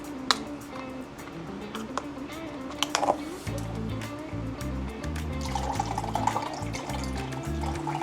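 Broth is poured into an Instant Pot already holding lemon juice and garlic, a close steady liquid splash and trickle that rises in the second half, with a few light clinks early on.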